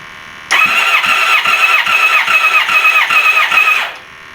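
A car engine cranks over on the starter for a compression test, about three and a half seconds of loud, rhythmic chugging pulses that stop abruptly without the engine firing.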